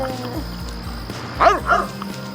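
A couple of short, bright dog barks in The Sims 3, with steady electronic background music running underneath.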